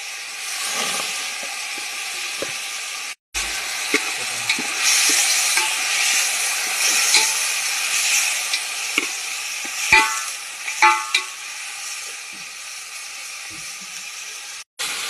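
Steady sizzling of chicken pieces frying in a pan, with intermittent scraping and stirring clicks, close and continuous.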